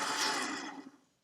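An electric mixer whirs on low speed through an ackee and saltfish dumpling dough, a soft steady hum that fades away within about a second.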